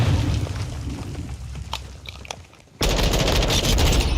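Marksman rifle and other gunfire in a Modern Warfare II multiplayer match: a dense stretch of loud rapid shots, then a thinner spell of scattered cracks, then another dense burst that starts abruptly.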